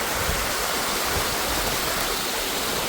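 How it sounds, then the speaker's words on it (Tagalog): Water rushes loudly and steadily at a large leisure farm in Sulaibiya, Kuwait, a dense, unbroken close-up roar like a stream or small waterfall with no voices. "Buhay na buhay yung tubig."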